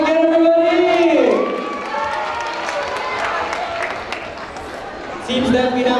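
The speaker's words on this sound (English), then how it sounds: "Round of applause again, everybody!" A school crowd applauds and cheers at a Grade 12 project event, a broad wash of clapping and shouts between bursts of amplified sung or spoken tones at the start and end.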